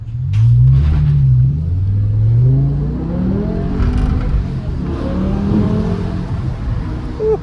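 A BMW E60 M5 with the S85 V10 engine launches hard on a rainy day, rising through revs with a deep roar, a gear shift and continued climbing pull heard from inside the car.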